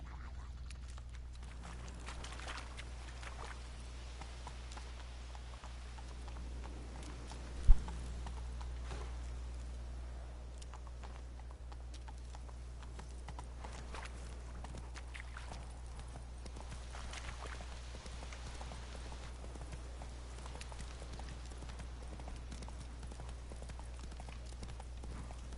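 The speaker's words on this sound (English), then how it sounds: "Whoa there, Roach." A horse's hooves clop faintly and steadily in The Witcher 3 video game, a low, even plodding across the whole stretch with one sharp louder knock partway through.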